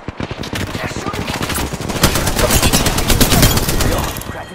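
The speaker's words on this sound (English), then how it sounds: "They're shooting!" Loud, close automatic gunfire in the battle royale game Apex Legends, a rapid stream of shots building into a dense sustained burst before trailing off, with voices barely present.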